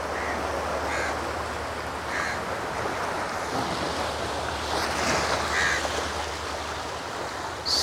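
Waves on Dona Paula Beach in Goa make a steady, broad wash of surf with wind buffeting the microphone, continuous and fairly loud, with a few faint bird calls and no talk.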